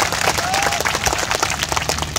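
A crowd at a political rally in Nagpur breaks into loud, vigorous applause with scattered cheers. The clapping is close and continuous for a couple of seconds.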